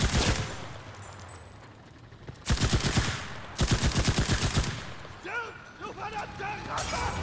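Gunfire in a video game, with loud bursts of rapid automatic shots in several long volleys, separated by quieter stretches where voices are heard.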